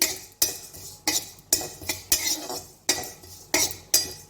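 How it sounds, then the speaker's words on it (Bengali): Cumin seeds being dry-roasted in a pan, with a spoon scraping and clinking against the metal in steady bursts roughly every half second, close and fairly loud, no voices. "জিরেটা একটু রোস্ট করে রাখছি"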